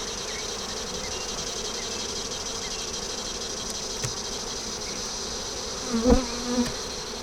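Honey bees at an open hive make a steady, close, continuous buzzing drone throughout, with a couple of soft knocks near the end and no speech.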